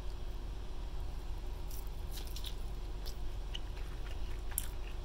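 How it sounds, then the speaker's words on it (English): A bite is taken from an oven-baked Garden Lites spinach egg white frittata, followed by soft, moist chewing close to the mic, with a few faint squishy clicks over a low background hum. "let's take a bite out of this from the oven."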